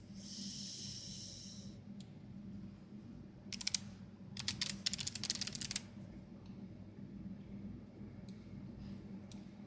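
Keys on a computer keyboard clatter in two short, quick bursts of typing, quiet and close, against a low steady hum with soft breathing.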